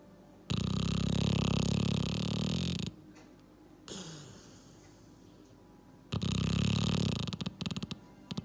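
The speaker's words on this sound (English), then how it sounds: "Just a snoring dog." A dog snores loudly in two long, rasping breaths several seconds apart, with a softer snort between them. The sound is close and clear, with no voices over it.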